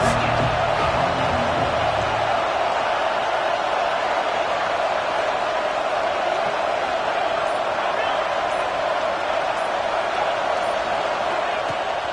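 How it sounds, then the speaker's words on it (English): Football stadium crowd roars in support of the defense on a big third down, a dense, constant wash of cheering and noise that holds steady the whole time. "Big 3rd down as the crowd gets behind this defense."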